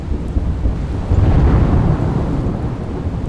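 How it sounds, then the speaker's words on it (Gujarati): Heavy downpour with thunder in the Dholka area of rural Ahmedabad, Gujarat: a steady roar of rain under deep, rolling rumbles that swell near the middle and stay close and loud throughout. "ધોળકા પંથકમાં ધોધમાર વરસાદ વરસ્યો"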